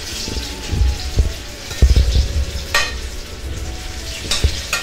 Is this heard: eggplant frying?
yes